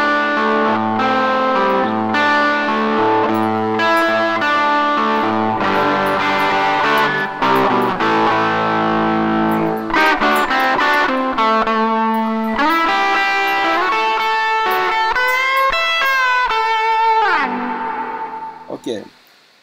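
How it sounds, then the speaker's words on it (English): Distorted electric guitar through a web-based amp simulator set for a strong, warm tone, playing chords and melodic phrases, loud and sustained, ending with a fading note. "Let's try a strong and warm sound."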